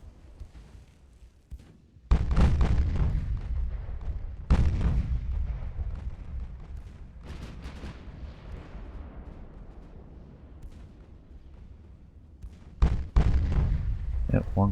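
Naval guns fire and shells strike during a dreadnought-era sea battle, with heavy booms arriving at irregular intervals over a continuous rumble of battle.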